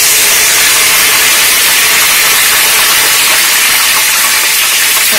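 Mint leaves hit hot oil for chicken biryani and set off a loud, continuous hiss that stays near and even throughout.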